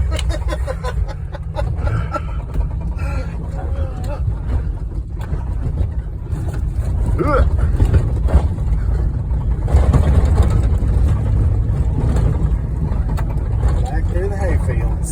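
A Ford Super Duty pickup rumbles along through hay fields, its engine drone loud and continuous from inside the cab, growing heavier midway, while people talk and laugh over it.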